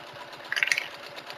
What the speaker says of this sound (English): So you're just literally top stitching the other side of the strap.